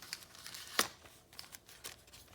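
A small paper matchbook-type cover lined with tea-dyed paper is pried open one-handed: faint, close crinkling with a single sharper rustle near the start of the opening.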